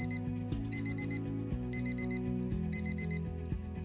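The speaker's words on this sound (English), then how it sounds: "you'll hear the alarm." Alarm ringing from an online alarm clock website, a repeating electronic beep pattern in quick bursts of four over a looping low tone, steady and moderately loud with no talk.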